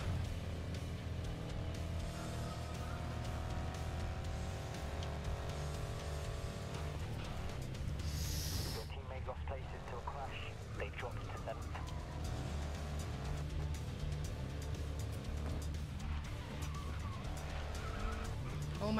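A race car in Grid Legends roars with a steady engine note and rising, falling tire skids and squeals as it slides around, while someone talks excitedly over the driving.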